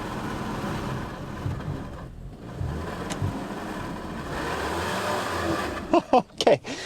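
Mazda CX-30 AWD in off-road mode straining on a slope, a low continuous engine drone with wheel and drivetrain strain, ending in a few sharp bumps and knocks.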